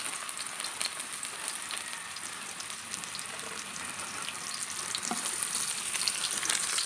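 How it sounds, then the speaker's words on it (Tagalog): Garlic and then onion sizzle steadily in hot oil in a pan for a Filipino sautéed vegetable dish, a dense continuous crackle at even, moderate loudness with no talking. "Una nating igisa ay garlic. Yan. Susunod ko na rin itong onion."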